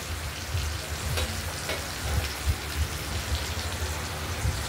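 Hilsa fish heads frying in hot oil, a dense, even crackle like rain with low bubbling pops scattered throughout, steady and close with no voices.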